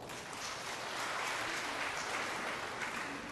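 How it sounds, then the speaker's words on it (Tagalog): A Catholic congregation at a 5:00 P.M. Mass claps loudly during the homily, a continuous dense roar of many hands, steady and fairly distant throughout. "Pumalakpak ng malakas."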